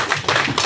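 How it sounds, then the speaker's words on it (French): Applause at a combined baptism and third-birthday party, a brief, close patter of several hands clapping in quick, uneven rhythm. "Applaudissez s'il vous plaît"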